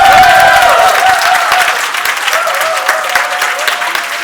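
An audience applauds at an anniversary celebration event, with dense, loud, sustained clapping from a large crowd that gradually eases over several seconds.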